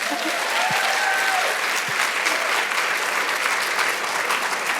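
Audience at a synagogue book event for a memoir applauds the author, steady dense clapping throughout with a couple of brief low thumps near the start.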